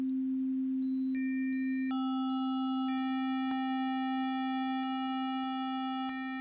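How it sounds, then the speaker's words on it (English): A pure, steady electronic sine wave tone from a Kodamo Mask1 synthesizer holds throughout, with fainter higher tones stepping in and out above it. "31, smooth sine wave."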